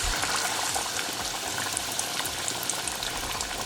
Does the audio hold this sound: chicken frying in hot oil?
yes